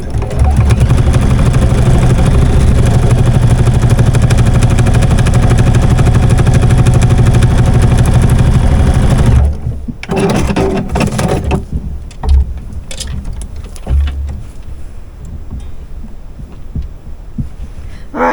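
A sewing machine stitches a small zipper bag with a wrist strap, giving a loud, rapid, continuous whirring rattle up close for about nine seconds, then stopping and giving way to fabric handling and rustling.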